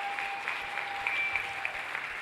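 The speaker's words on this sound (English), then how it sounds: "Give these guys a round of applause" Audience applause at a Las Vegas speaking event, steady dense clapping from a room of people held at an even level for a couple of seconds, with no voices over it.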